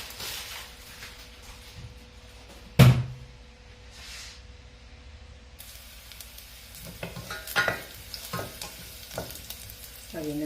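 Chopped garlic sizzling in oil in a pan until golden brown, a steady soft frying hiss with a sharp clank of a utensil against the pan and occasional stirring.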